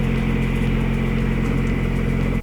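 Diesel engine of a Rhinoceros XN12-8 mini excavator running steadily at idle after a key start, a loud continuous mechanical hum with a low throb, cutting off abruptly at the end.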